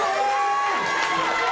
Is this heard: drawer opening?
no